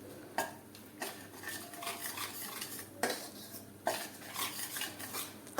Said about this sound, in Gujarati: લોટને આપણે આ રીતે ઘી સાથે એકદમ સરસ રીતે મિક્સ કરતા જશું અને શેકતા જશું